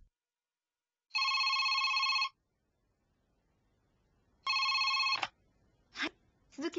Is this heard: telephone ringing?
yes